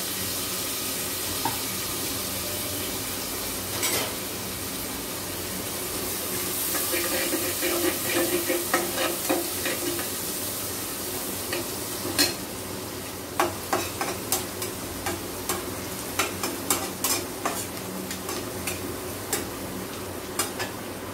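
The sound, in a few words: chopped onion frying in a pan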